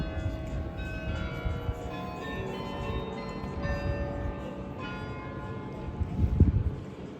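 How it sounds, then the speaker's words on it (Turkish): The bells of the Ghent belfry in Belgium ring in a steady, sustained peal, moderately distant with a soft outdoor background and a thump of handling noise near the end. "Hemen arkada şu an çanlar da çalıyor."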